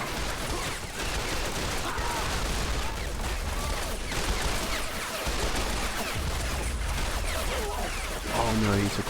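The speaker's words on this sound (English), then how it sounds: "Let's take some covering fire" Heavy battle gunfire in a Fallout mod trench fight between a USA trench force and a huge Chinese army, with dense overlapping rifle and machine-gun volleys and booming impacts sustained throughout, loud and close.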